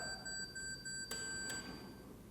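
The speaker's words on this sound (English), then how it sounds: "let's take that shot with self-timer and let's see how it looks like" A Hasselblad X2D II camera counts down its self-timer with a series of evenly spaced electronic beeps, followed by two quick shutter clicks, heard close and alone.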